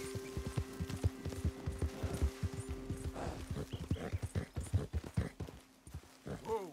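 Steady clip-clop of horse hooves trotting in Red Dead Redemption 2, with a horse whinnying briefly partway through, close and rhythmic, with no talk.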